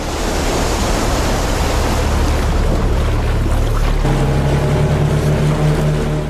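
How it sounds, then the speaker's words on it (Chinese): A boat glides across water after its engine has failed, in a film scene. A steady, loud rush of water and wind noise fills the whole stretch, and a low droning tone joins about halfway through. "老江这边走水路离开时，因为发动机故障，不得不人工滑降"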